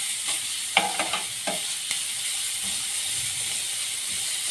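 Grated carrot fries with onion in oil in a pan, a soft steady sizzle with a quick cluster of spatula scrapes and taps early on, then quieter frying.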